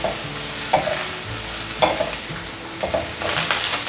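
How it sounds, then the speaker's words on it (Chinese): Carrots with red shimeji and enoki mushrooms stir-fried in a pan, loud close sizzling broken by a regular run of spatula scrapes and knocks about once a second. "把食材炒香。"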